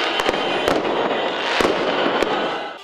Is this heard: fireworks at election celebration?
yes